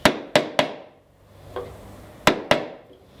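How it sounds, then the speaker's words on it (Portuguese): A wood chisel is struck repeatedly while cutting a mortise for a tenon, sharp close-up whacks in quick pairs and triplets with short ringing decays and brief pauses between strikes. "Vai afundando com o formão, vem com o outro formão aqui, sistema de alavanquinha"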